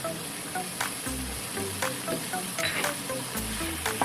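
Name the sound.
chicken karahi stirred in the pan with salt and whole spices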